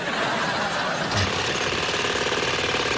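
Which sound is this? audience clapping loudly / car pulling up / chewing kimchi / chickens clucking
car pulling up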